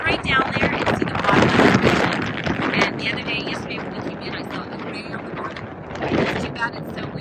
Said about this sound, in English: We're getting some pretty significant gusts of wind